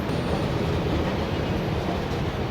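A Metro Rail train passing in North Hollywood near the 101 freeway, a steady loud rumbling roar of rail noise filling the whole stretch without pause.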